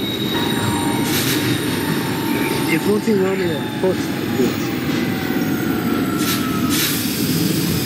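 Simulated R42 subway train on the Q line in a train-simulator game, a steady loud rumble of rolling stock with wheel squeal rising as it pulls into a station, with radio dispatcher chatter running over it.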